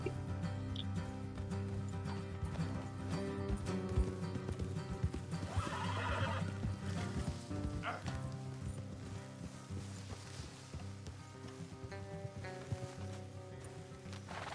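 Steady, continuous clip-clop of horse hooves at a trot in Red Dead Redemption 2, with occasional snorts and whinnies, dense and close throughout.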